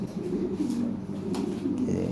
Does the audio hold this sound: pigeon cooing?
yes